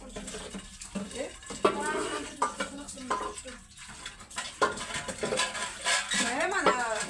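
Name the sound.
washing dishes and pots in the kitchen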